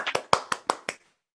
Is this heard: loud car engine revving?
no